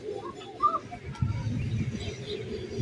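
Pigeons, racer, fancy and high-flyer birds kept for sale, coo softly in short murmuring phrases with a few faint chirps amid low background noise.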